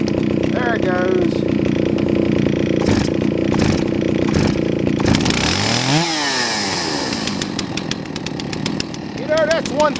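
A chainsaw engine sputters, then catches and runs loudly at high revs while cutting firewood logs. Clattering start-up noises lead into a steady roar that rises and falls as it saws. Talk is heard over it.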